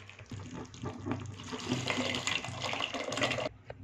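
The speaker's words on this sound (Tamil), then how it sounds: "அடுத்து வந்து நம்ம அந்த சாந்து ஊற்றிக்கலாம்" Ground onion paste poured into a pot of village-style goat meat curry, a continuous wet splashing, liquid rush at close range that runs steadily for several seconds and cuts off at the end, with no talking.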